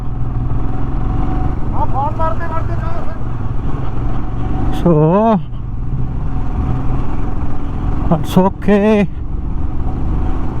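A motorcycle engine runs unevenly and jerks as the fuel runs low, on a mountain road trip toward Sangla Valley in Spiti. The engine drones steadily and close, with people talking over it and a couple of short rising tonal sweeps.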